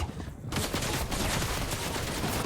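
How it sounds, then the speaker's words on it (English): Shotgun fire in a Fortnite match during an FNCS tournament qualifier: rapid, close blasts of gunfire and building noise in a dense, continuous burst. "there it is, the shotguns"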